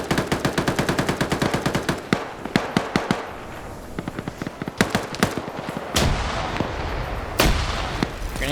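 Rapid automatic gunfire and scattered single shots crackle through a PvP video game match, with bursts, pauses and a couple of louder blasts, and no talking.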